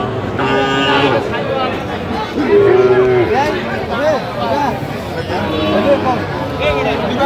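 Sahiwal cattle and calves at a farm in Faridpur let out a loud, drawn-out moo with fainter lowing around it, under steady nearby talking.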